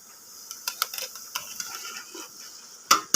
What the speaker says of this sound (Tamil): இப்போ இந்த கத்திரிக்காய் வந்து நம்ம இதில் ஆட் பண்ணுறோம்